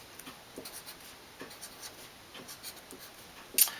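Pen writing numbers on paper, a series of short, faint scratching strokes in irregular bursts with a sharper tap near the end, quiet and close.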